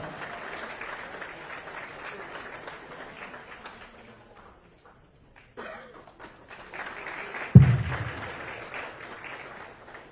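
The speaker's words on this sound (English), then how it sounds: "with a good round of applause, resounding applause" Applause from a crowd, moderate and sustained, dipping briefly before swelling again with a sharp thump in the middle, then continuing.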